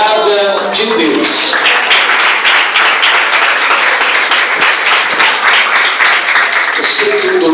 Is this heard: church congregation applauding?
yes